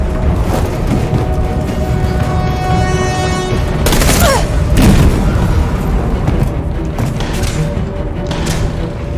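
Bomb blast in Detroit: Become Human: a dense, continuous rumbling roar with layered booms and crackling debris, loudest in the middle and sustained throughout.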